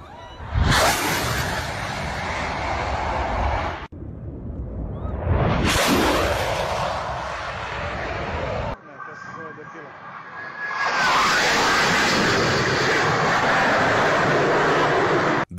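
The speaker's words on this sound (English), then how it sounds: "This fighter jet performs an incredibly low pass." A fighter jet roars past very close and loud in a sudden rushing sweep on a low pass, then another; the engine noise cuts in abruptly and stays loud near the end.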